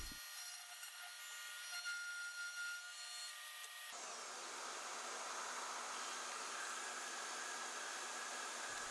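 A palm router cuts a keyhole slot in a wooden workpiece: a high, steady motor whine turns into a loud, rough, broadband grinding as the bit bites into the wood, running on continuously.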